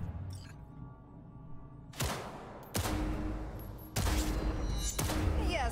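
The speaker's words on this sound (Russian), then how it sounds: "Сейчас будем проходить курс учебной стрельбы" Gunfire cracks out at a training shooting range in Cyberpunk 2077: several sharp, loud bursts of rapid shots about a second apart, each one ringing out over a low hum.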